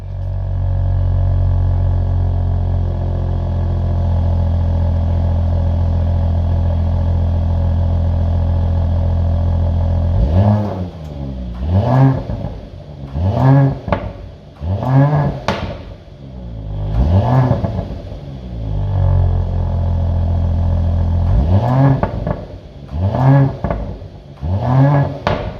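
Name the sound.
Mercedes-Benz GLE 53 AMG engine revving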